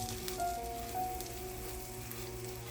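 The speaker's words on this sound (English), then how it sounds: "Melt some butter, and the aroma will be rich and inviting." Butter melting in a hot pan for a meatball sauce gives a steady, soft sizzle and crackle, close and continuous with no talking.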